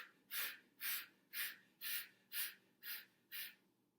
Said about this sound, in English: That's called Bellows Breath.